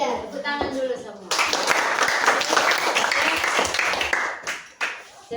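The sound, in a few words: audience applause, clapping hands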